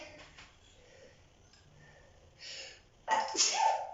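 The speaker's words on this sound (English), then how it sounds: "Oh, I'm going to sneeze." A loud, close sneeze bursts out after a few seconds of quiet breathing and a short inhale.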